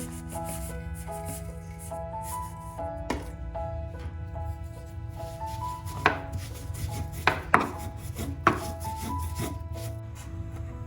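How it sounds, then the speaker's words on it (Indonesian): Roasted coconut being ground smooth for a Pemalang nasi grombyang sate dish: steady rubbing and scraping with a few sharper knocks, close and moderately loud over a constant tonal background. "lalu kita haluskan kelapa yang sudah kita sangrai"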